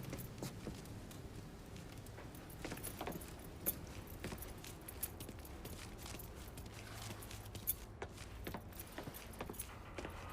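Keys jangle with a dense metallic rattle as they are picked up in the video game Mafia III, continuous and close over a steady low background hum, with a couple of sharper clinks.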